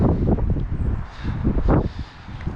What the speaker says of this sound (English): It's quite windy, so I hope you can hear it.